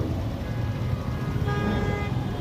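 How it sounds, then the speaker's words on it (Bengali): Vehicle horns toot over steady road traffic on Hanif Flyover in Dhaka, a continuous dense rumble with a sustained horn tone emerging in the second half, with no talking. "গাড়িগুলো অনবরত হর্ন বাজিয়ে চলেছে।"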